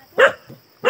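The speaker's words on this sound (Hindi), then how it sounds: "अभी जब हम आए अब भौंकने लग गया" A dog at a rural village home in Uttarakhand barks close by, two sharp barks with a softer yip between them, loud and alone in a quick burst.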